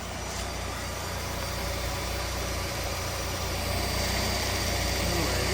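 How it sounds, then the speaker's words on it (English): A high-mileage car engine runs at a steady idle, a continuous low mechanical hum and vibration close by that stays even throughout, with no clear speech. "it's a pretty good running engine, especially for the amount of miles."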